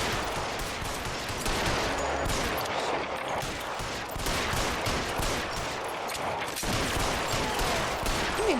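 Sustained gunfire in a shootout from the video game L.A. Noire, dense rattling shots running continuously throughout, close and loud, with faint speech at moments.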